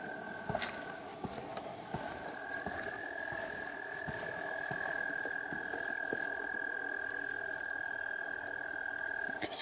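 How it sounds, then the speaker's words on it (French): A cricket chirps at night with a sustained, even trill that holds steady for several seconds, faint against quiet background hiss, with a couple of short sharp clicks near the start. "Là, on entend un grillon."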